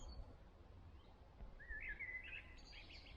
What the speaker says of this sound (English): You know that blackbird?